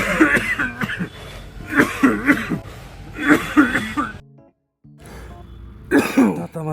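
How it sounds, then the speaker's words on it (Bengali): A man coughs in repeated harsh bursts with throat clearing, close and loud, in a smoke-filled outdoor setting where the air quality is very poor; a brief silence breaks the fits before a final cough. "কাশি হচ্ছে কেন, দেখি তো"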